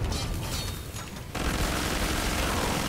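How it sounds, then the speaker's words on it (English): Rockets explode in the Killing Floor 2 video game: a dense, roaring barrage of blasts, with a sharp, louder surge partway through that keeps rumbling to the end. "Rockets."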